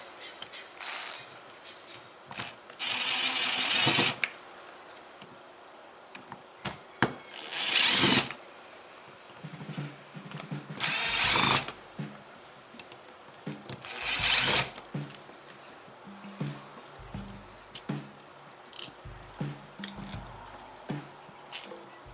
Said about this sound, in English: I'm going to go ahead and use my rattle gun